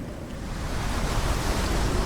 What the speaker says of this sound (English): Even the waves.